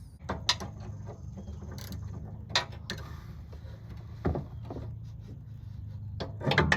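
An old sway bar end link comes off a 2016 Mazda 3 with a tool, heard as quiet mechanical rattling and ratchet-like clicks over a low rumble, with a few sharper metallic knocks scattered through.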